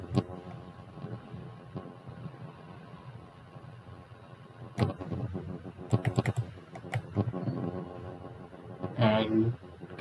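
Keys clacking on a computer keyboard while a character code is entered, quiet scattered taps early on, then denser bursts of quick keystrokes near the end, close up with no voices.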